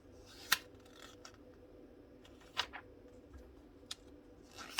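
Pages of a thick Faberlic beauty catalog being flipped: a few soft, sharp paper flicks spaced a second or two apart, faint and close in a quiet room.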